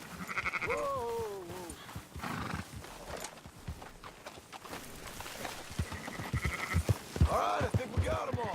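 Sheep bleat in a Wild West video game amid horse whinnies and clopping hooves, the calls rising and falling in wavering bursts at moderate volume over a busy outdoor ranch scene.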